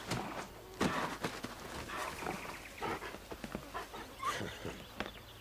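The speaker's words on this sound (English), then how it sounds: "That there is a fine hound." Torgal, a hunting hound in the game Final Fantasy XVI, panting in quick, irregular breaths close by, mixed with soft movement and scuffing sounds.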